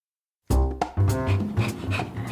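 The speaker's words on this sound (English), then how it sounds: "That's the sound of Dora the dog losing her mind with excitement over her new toys" Excited dog panting over new toys, quick rhythmic huffing breaths close up, starting abruptly after a short silence and continuing in a rapid pattern.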